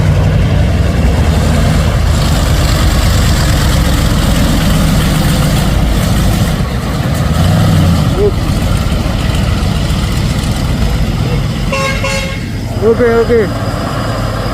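Mitsubishi Fuso 6x4 truck engine idling with a low, steady rumble on a hill road, with a horn toot near the end and people talking over it.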